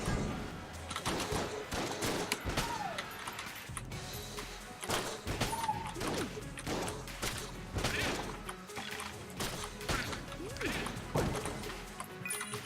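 Gunfire in the game Enter the Gungeon, playing the Pilot, with rapid overlapping shots and crashing impacts in steady bursts, loud and busy, with occasional swooping tones and a voice talking over it.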